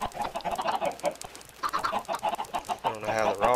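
Chickens in a Minecraft chicken farm cluck in quick, busy bursts, several birds overlapping at close range, with a short louder squawk near the end and a voice talking faintly beneath.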